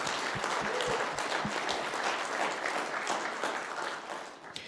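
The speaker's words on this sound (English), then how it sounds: "So a big round of applause for our great young folks helping us out here today." An audience at a Homes For Our Troops ceremony honoring an Army staff sergeant applauds young helpers, giving dense, sustained clapping that fills the room and gradually fades toward the end.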